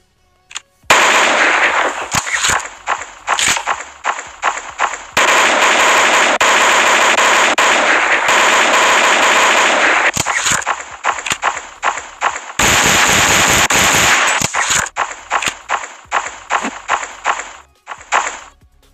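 Gunfire in Special Strike, an Android Counter-Strike clone, loud, close bursts of rapid automatic fire mixed with single shots, some long sustained volleys and scattered sharp cracks, with no talking.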